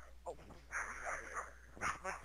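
A dog barks a few times in short bursts inside a Resident Evil 5 co-op gaming session, the barks fairly clear against quiet background noise.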